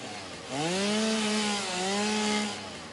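Chainsaw in the game Satisfactory, a close, loud engine drone that rises and holds a steady buzzing pitch for about two seconds before easing back down.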